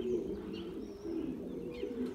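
Pigeons coo at a loft, low soft calls rising and falling continuously, close and clear with a few faint chirps above.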